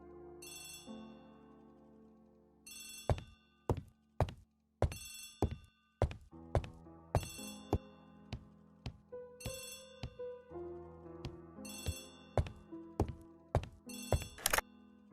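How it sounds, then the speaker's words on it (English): An old-fashioned telephone bell rings in repeated bursts in the Agatha Christie The ABC Murders video game, loud and close, with low tones sustained beneath the rings. "Poirot, the telephone."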